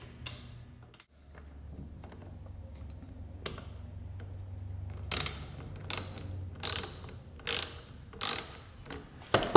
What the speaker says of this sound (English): take a 13 millimeter wrench and loosen the compression rod nut on the